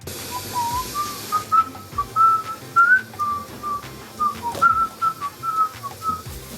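A person whistles a simple tune, a string of clear sustained notes rising and falling, over faint background clatter.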